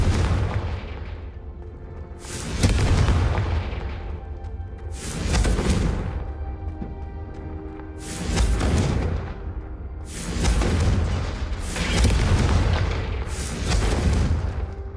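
Repeated Confringo fire-spell blasts from Hogwarts Legacy, about six booming explosions at uneven intervals of two to three seconds, each with a sharp burst and a rumbling tail over steady low background noise.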